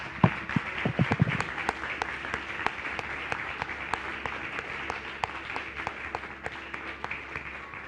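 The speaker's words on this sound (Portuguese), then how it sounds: "Vamos aplaudir a Jesus?" A church congregation claps, scattered individual claps sounding sharp and distinct against a quiet room, starting fuller and thinning into sparse, irregular hand strikes.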